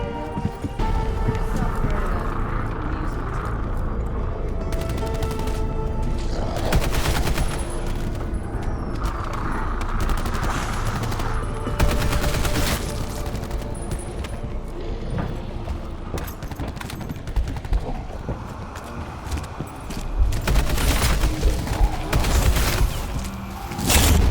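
Dense, continuous gunfire from a Black Ops 4 Zombies match aboard the Titanic-themed Kraken map, with bursts and booms layered over game music and effects, sometimes under talk.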